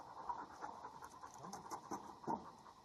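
Dogs panting during a nighttime ghost hunt at a haunted house, as they are walked across one at a time; steady, fairly faint rhythmic breathy pants close by, with no talk.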